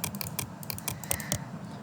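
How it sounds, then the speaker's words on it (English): Computer mouse clicks while working on a chart in a Microsoft Excel spreadsheet: a quick run of sharp, close plastic clicks and taps at an uneven rhythm over a low room hum, with no voices. "you will just select the x-axis, right click"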